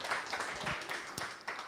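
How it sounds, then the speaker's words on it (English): Audience applause and cheering at a hackathon kickoff, a brief burst of clapping with whoops, fairly close and lively, lasting under two seconds. "yes, we can give an applause."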